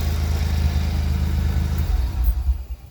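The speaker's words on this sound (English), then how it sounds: "I've just switched the engine off" A Nissan 300ZX Z32 twin turbo engine idling close up with a steady low rumble, then switched off and sputtering briefly as it dies away, followed by near quiet.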